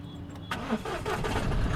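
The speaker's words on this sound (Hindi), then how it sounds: "देखिए गाड़ी स्टार्ट।" A car's engine cranks and catches, started in neutral with the clutch pressed and no throttle, then settles into a steady close idle with no talking over it.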